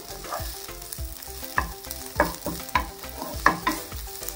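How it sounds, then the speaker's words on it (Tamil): Fish podimas mixture, spiced flaked fish, stirred in a pan over low heat, with a spoon scraping the pan in a steady rhythm of distinct strokes over a soft sizzle, close and fairly loud. "அதுக்கு முன்னாடி நம்ம இதை இந்த மாதிரி நல்லா மிக்ஸ் பண்ணி விட்டுருவோம்"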